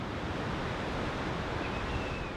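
The roar of Vernal Fall among huge boulders in Yosemite: a constant, dense rush of falling water, loud and unbroken, with no voices.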